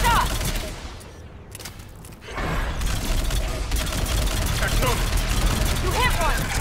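Rapid gunfire from a firefight in the sci-fi shooter Mass Effect 3, dense bursts of shots and impacts filling the whole stretch after a brief lull, with brief voices calling out over the action.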